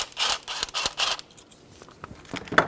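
An 8mm socket wrench works a bolt loose on a 2000-2007 Ford Focus during a cylinder head temperature sensor replacement, giving a few quick close ratcheting clicks in short bursts followed by quieter fiddling.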